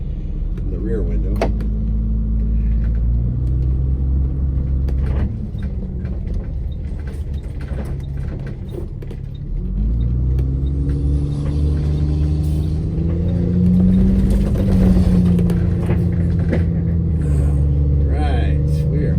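Bluebird Wanderlodge motorhome rolls along a bumpy road, with steady low engine and road rumble, clunks and rattles from the body, and a louder stretch of engine drone partway through. People talk over it.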